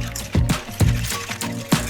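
Coconut rice pudding with sugar is whisked in a pot, making soft, thick, wet sloshing strokes in a regular rhythm of roughly two per second.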